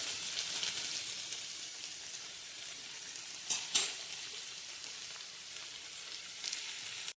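Steady hot-oil sizzling with a brief louder crackling burst in the middle as cumin seeds are dropped in for tempering, then continued even frying hiss.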